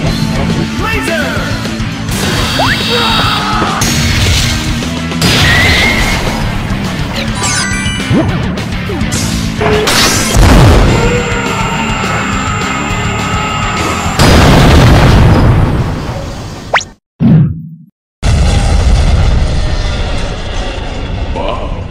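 Cartoon laser blasts and explosions from an animated show, a dense run of loud booms, crashes and zapping bursts with a brief drop to silence near the end, and voices mixed in.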